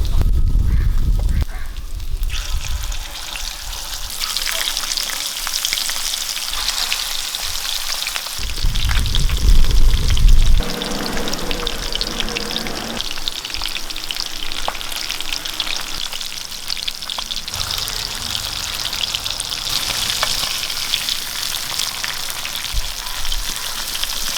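Fish frying in hot oil with curry leaves gives a loud, steady sizzle and crackle, surging and settling across the stretch, with no talking.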